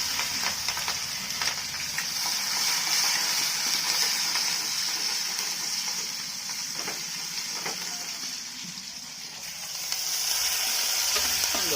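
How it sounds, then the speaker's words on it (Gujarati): A tomato, onion and chili mixture for Gujarati mung bean curry fries and is stirred in a pan, giving a steady, close sizzling hiss with occasional scraping stirs throughout. "टमेटा, डूंगળી, मरचा બધું નાખી દીધું છે અને પછી મિક્સ કરી નાખવાનું, સરખા હલાવી નાખવાનું।"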